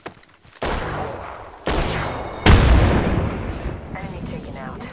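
A frag grenade blast in a combat video game, heard as loud sudden booms and bursts of gunfire under a voice speaking.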